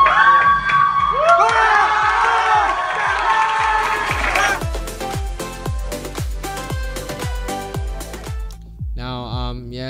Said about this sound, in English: That's my voice shouting like we don't believe we won as a champion.